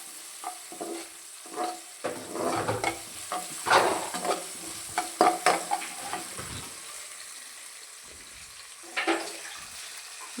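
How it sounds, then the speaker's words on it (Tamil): Food fries in hot oil in a pan until golden brown, a sizzle punctuated by stirring, scraping and clattering strokes, fairly close and loud, easing toward the end. "நல்லா பொன்னிறமாக வறுத்துக்கிடுவீங்களா இதை?"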